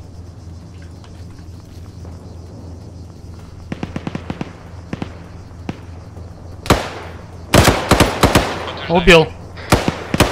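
In ArmA 3 combat, sharp gunfire cracks and explosions go off, first as scattered sparse shots, then heavier close blasts and rapid bursts, while someone speaks briefly among them.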